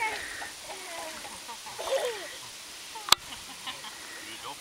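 Water splashes softly as someone lowers themselves into the sea at a Swedish bathing spot, with light splattering, a sharp clap-like splash near the middle and children's voices in the background.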